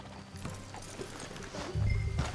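Horse hooves clop along at a walking pace amid a rumbling low background in the video game Red Dead Redemption 2, with a brief whinny-like sound near the end.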